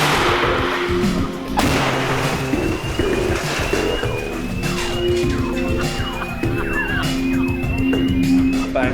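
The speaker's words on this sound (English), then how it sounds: "Special effects. Lots of bangs. Lots of flame. Big flashes." Special effects explosions and gas fireballs on a sci-fi film set go off as loud, dense bangs and roaring bursts over a noisy background, with siren-like tones and voices in the mix.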